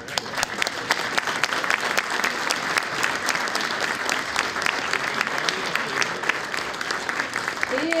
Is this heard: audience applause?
yes